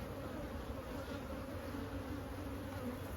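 Honey bees drone steadily in an open colony during a yard hive inspection, a continuous dense buzz that holds level throughout, no voices.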